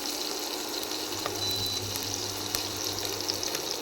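Water pours steadily into a cooking pot in a home kitchen, a close, continuous hissing splash with faint clinks over it.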